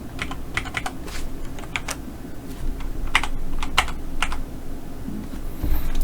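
Computer keyboard keys tapped in short irregular clusters, close and fairly quiet over a low room hum, with no talking.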